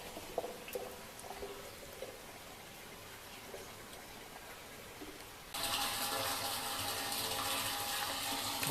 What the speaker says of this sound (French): On entend l'eau couler là-haut.